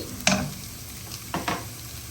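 Onions sauté in a pan for tomato or potato rice, a low sizzle broken by a few short scraping stirs, with no one speaking.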